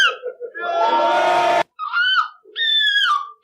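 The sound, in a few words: person imitating a seagull squawk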